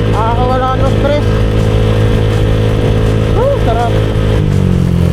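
A Honda Click 125i scooter with a 59mm bore hums steadily while being ridden at night, its engine drone constant throughout as someone speaks briefly over it.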